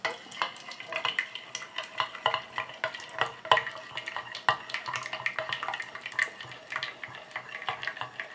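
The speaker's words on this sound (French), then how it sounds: "Je continue à mélanger comme ça jusqu'à ce que mon émulsion refroidisse et épaississe." An emulsion being stirred by hand after its aqueous phase is added, giving a steady run of soft scraping and clinking strokes against the container, close and fairly quiet, with no talking.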